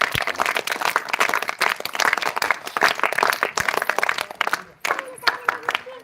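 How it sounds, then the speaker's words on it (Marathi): Onlookers at a school sports day clap in quick, uneven bursts on an outdoor field, the claps crisp and close, while people keep talking over and between them. "एकदा टाळ्या वाजवा बर"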